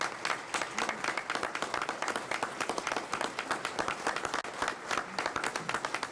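Audience applause for college students at a healthcare reform event, a dense, sustained clapping from many hands with a fairly steady rhythm, close and lively throughout.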